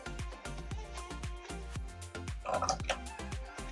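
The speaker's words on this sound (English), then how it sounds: "And then I'm going to add in some buttermilk." Buttermilk is poured into pancake batter with eggs, making close, gurgling, glugging liquid sounds with rhythmic drips and a brief splashier burst toward the end.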